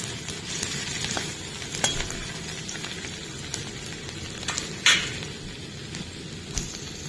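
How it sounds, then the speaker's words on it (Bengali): Onions frying lightly in a pan give a continuous close sizzle and crackle, with scattered pops and utensil taps throughout and no talking. "পেঁয়াজটা খুব বেশি ভাজবো না একটু ভেজে নিচ্ছি"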